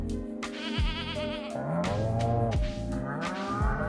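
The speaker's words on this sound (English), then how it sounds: "Hello, my cows and goats." Goats and cows bleating and mooing in the farming video game Stardew Valley, several rising and falling animal calls following one another over a steady background of soft music.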